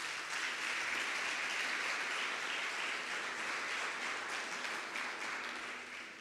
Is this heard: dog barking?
no